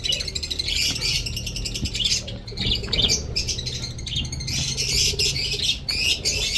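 Budgies in and around a nest with eggs and newly hatched chicks keep up a dense, continuous chatter of high chirps and squawks, close and busy, with no voices.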